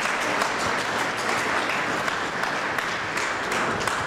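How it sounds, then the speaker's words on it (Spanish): An audience at a history gathering of the Ferro Carril Oeste club in Buenos Aires breaks into steady, dense applause, many hands clapping together at full strength throughout. "quiero que le brindemos una gran ovación"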